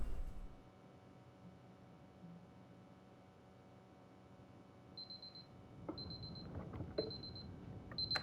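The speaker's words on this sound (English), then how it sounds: "We wanted to do a unique alarm clock for each level, but this is the only one that survived that idea." An alarm clock in the Superliminal video game rings in short repeated electronic beeps, about four bursts in the last few seconds, faint and distinct over a quiet room hum.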